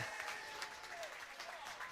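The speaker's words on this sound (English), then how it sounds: "That's woken the crowd up at Molesey Road." A rugby crowd at Molesey Road applauds a try in a National League match, with steady, fairly distant clapping and cheering throughout.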